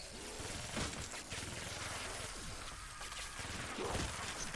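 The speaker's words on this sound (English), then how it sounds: "This gun has so much kick to it." Rapid video game gunfire rattles in dense, continuous bursts, loud and close, with heavy recoil-like thumps running through the whole stretch and no clear pauses.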